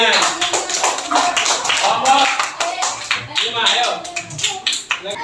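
Classroom clapping during a practice lesson on Hajj rituals, a group of students applauding in a choppy, uneven patter while a voice speaks over the claps.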